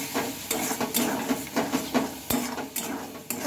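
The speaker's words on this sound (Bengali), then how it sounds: "মশলাটাকে এখন ভালোভাবে নেড়ে চেড়ে কষিয়ে নিতে হবে" Spice masala with a splash of water for vegetarian chana ghugni is stirred and fried in a pan, a close, rhythmic scraping of the spatula over a soft, steady sizzle.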